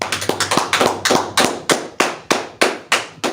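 A few people clap in a steady rhythm, about a dozen sharp claps close by, evenly spaced and slowing slightly toward the end, in a class setting.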